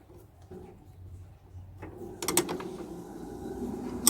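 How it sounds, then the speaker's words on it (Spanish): Negative terminal being tightened onto a car battery post, a few close mechanical clicks and ratcheting scrapes from the tool, with a brief metallic tap near the end, quiet and without talking. "Colocamos y vamos a apretar."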